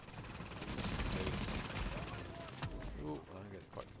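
A boss fires at the player in Tom Clancy's The Division on Xbox One, with dense rapid gunfire loud at first and then thinning, while someone speaks over the later part.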